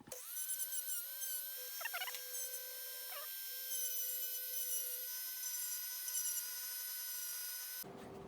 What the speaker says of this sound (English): We just need to take the number plate off. I'd already got this in the Dremel, so I'm just going to do it using that.